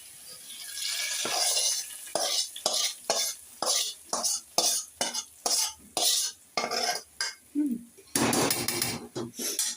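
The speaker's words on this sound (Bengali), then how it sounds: "এবার সুন্দর করে নেড়েচেড়ে এটা মিশিয়ে নেব" Khichuri in a village pot being stirred and mixed with fried onion and garlic, a rhythmic series of about a dozen scraping, clinking ladle strokes against the pot, ending in a longer rough scrape.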